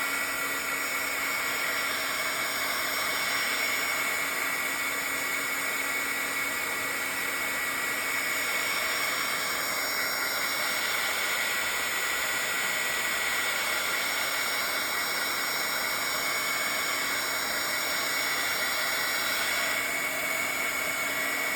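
A hair dryer blows steadily to dry paint on a Bible journal page, a constant loud whirring hiss with a high motor whine that runs unbroken throughout.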